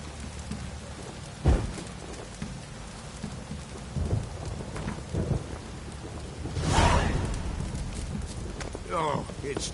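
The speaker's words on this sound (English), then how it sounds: "Oh, it's drizzling." Steady rain falls in The Witcher 3 with a few soft rumbles of thunder and a louder swell partway through, set against a continuous wash of ambient game noise.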